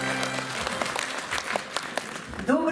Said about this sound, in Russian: Давайте поприветствуем ее бурными аплодисментами.